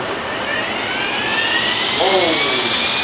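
A Makita cordless grass trimmer running at speed 1, a loud, steady high-pitched motor whine with a faint rising tone, close by and continuous throughout.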